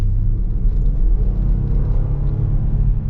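A 2025 Nissan Pathfinder Rock Creek with a naturally aspirated V6 pulling away, a steady deep engine rumble with road noise, heard from inside the cabin and without voices.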